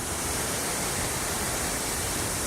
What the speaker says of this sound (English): so I could make it to the bottom of the Pyramid Lake Waterfall, and it's mostly frozen now